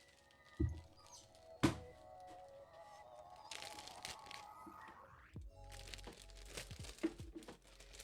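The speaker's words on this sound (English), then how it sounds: "I'm gonna set this tomato in a plastic bag or something and throw it in the fridge." A plastic bag crinkles and rustles as a tomato is wrapped in it in a home kitchen, with a couple of sharp thumps early on and then irregular crackling close by.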